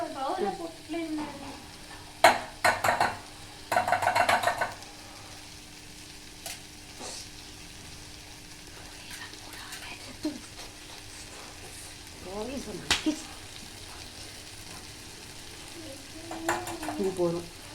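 Eggs for egg bhurji sizzling in a hot pan while a spatula stirs and scrapes, with clattering bursts of stirring early and late over a steady frying hiss, close and fairly loud.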